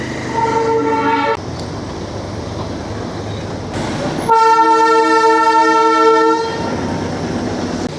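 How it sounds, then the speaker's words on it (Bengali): Darjeeling toy train on its mountain line near Ghum, clattering wheels and loud sustained horn blasts close by, the horn sounding twice with a pause between, no talk. "সামনে দেখতে পাচ্ছ টয় ট্রেন"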